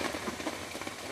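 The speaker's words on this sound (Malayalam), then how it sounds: "നല്ല മഴ." Steady rain falls in a dense, even hiss across the whole short moment, close and fairly loud with no pauses, and no voices over it.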